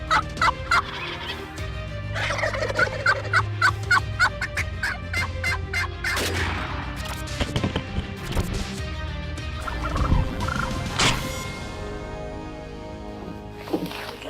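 Wild turkeys gobbling in the field during spring turkey season, a series of rapid rattling calls repeating through the clip, moderately distant with open outdoor ambience and no talk.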